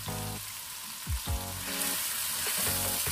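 Minced pork sizzles and fries in a pan, a steady close crackle with a few brief stirring scrapes.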